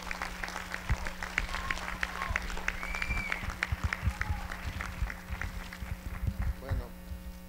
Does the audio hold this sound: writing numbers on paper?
no